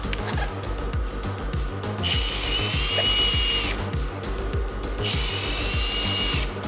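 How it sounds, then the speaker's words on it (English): A power drill whirs in two bursts of a few seconds each, drilling holes in a Ford Bronco Raptor for rock light installation, close and loud over a busy, clattering background. "We're going to go ahead and drill those."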